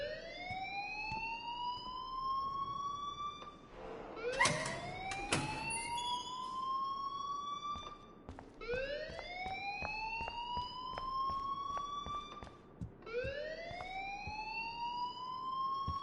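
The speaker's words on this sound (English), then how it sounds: "please turn off that alarm since that's your job" Rising and falling electronic alarm wail in a PS4 video game, repeating in long sweeping cycles with bright harmonics, loud and steady, broken briefly by a cluster of clicks and bangs partway through.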